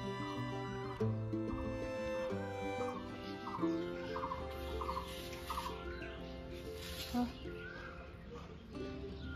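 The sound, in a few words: chickens and chicks clucking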